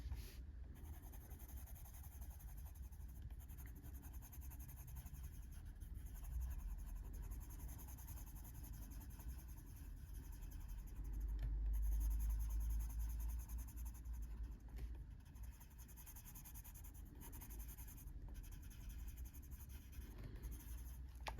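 Cream-coloured pencil (shade 102) being worked across a colouring book page, a steady soft scratchy shading that runs continuously, close and quiet, with a low background hum and no talk.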